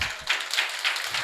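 Clapping from an audience at an event in Naimisharanyam, Uttar Pradesh, honouring Master Kondababu, with dense applause carrying through a short moment and a few louder swells.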